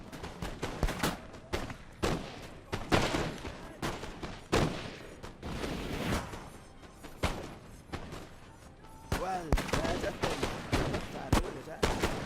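Napoleonic-era battle in Napoleon: Total War, with ragged musket volleys and booming artillery rolling out in irregular bursts near and far across the field, while voices are heard over the gunfire.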